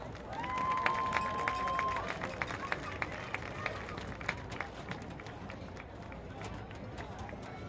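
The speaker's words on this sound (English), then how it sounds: "Please give a round of applause for this year's honorees." A stadium crowd at a homecoming football game applauds honorees, producing a distant, steady wash of clapping and cheering with a brief whistle-like tone early on.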